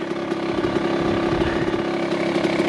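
A Kawasaki KX100 dirt bike engine drones loud and close while being ridden up through hilly terrain. Its buzzing two-stroke note holds steady and continuous throughout the stretch, with no voices present.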